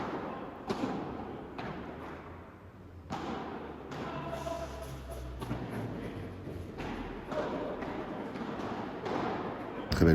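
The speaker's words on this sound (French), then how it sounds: "Très belle volée, ça, Nico." Several sharp thuds of a padel ball striking a racket during volleys in a competitive padel tournament match in Amiens, set against steady court and crowd background noise.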